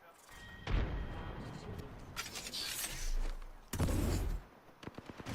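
A frag grenade blows up in a first-person shooter battle-royale match. Heavy, close booms land amid ongoing game noise, with a second blast a few seconds after the first and smaller impacts trailing off.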